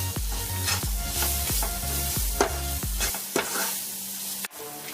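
Chicken masala is stirred in a hot pan, a loud close sizzle broken by a regular series of spoon scrapes about twice a second, then a sharp knock near the end, with no talking.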